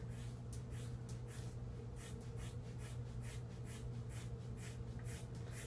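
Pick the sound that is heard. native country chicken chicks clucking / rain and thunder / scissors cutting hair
scissors cutting hair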